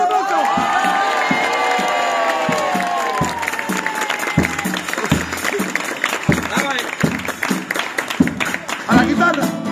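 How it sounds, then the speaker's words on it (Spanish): At a Cádiz carnival chirigota performance in 2024, the audience breaks into applause and cheering for the band's drummer, mixed with shouts and voices while strong rhythmic beats and tonal sounds from the stage run underneath. "Dani Domínguez, fuerte aplauso."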